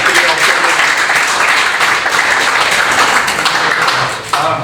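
An audience at a sporting legends honouring event gives a loud, dense round of applause, with many hands clapping continuously and a slight dip near the end.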